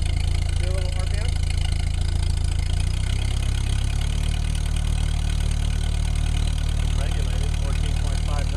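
A 1948 Ford 8N tractor engine revving to higher RPM, a loud steady low-pitched drone that builds and holds, close by, with faint voices under it.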